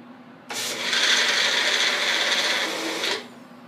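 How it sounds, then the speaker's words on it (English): A blender mixing coffee whirs steadily for about three seconds, a harsh high-pitched motor drone that starts abruptly and cuts off. "put it in our blender, and hit go."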